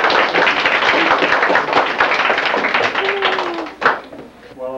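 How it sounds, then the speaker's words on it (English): An audience applauds in a county commissioners' meeting, steady close clapping from many hands for several seconds, with a voice speaking briefly near the end. "Let's clap"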